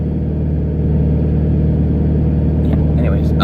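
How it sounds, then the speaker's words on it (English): A car being driven, a steady low engine drone and road rumble filling the cabin at an even level, with a person talking over it toward the end. "My car's making all these noises."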